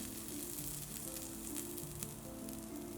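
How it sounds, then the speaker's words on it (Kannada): Paddu cooking in a pan over a low flame, a steady soft sizzle and crackle of frying batter with faint popping, continuous and fairly quiet, no talk. "ಲೋ ಫ್ಲೇಮಲ್ಲೇ ಇನ್ನೊಂದು 2 ನಿಮಿಷ ಬೇಯಿಸ್ಕೊಳ್ಳೋಣ"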